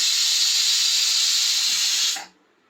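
A pressure cooker vents a loud, steady jet of hissing steam up close for about two seconds, then cuts off abruptly into near silence.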